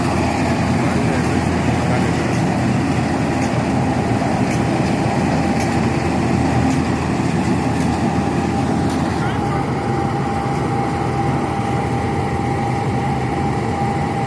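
A cutting machine runs alongside a tractor, its steady engine drone and mechanical whine loud and continuous, with faint ticking clicks on top and no pauses.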